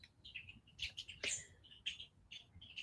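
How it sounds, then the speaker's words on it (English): A flock of birds chirps and tweets in quick, scattered calls, faint and somewhat distant, as they fly low outdoors. "See now, all these birds coming. Oh my god! I had now it was just about 50 birds flew."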